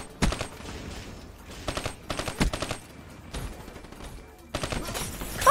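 Gunfire in a Call of Duty match, several short rapid automatic bursts with brief pauses between them, moderately loud and close, with no talk over them.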